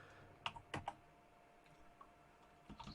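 A search term is typed on a computer keyboard in short clusters of close, crisp key clicks with a pause between bursts, quiet and alone.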